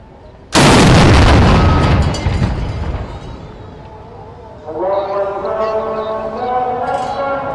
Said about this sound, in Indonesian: ditembakin meriam, azan baru buka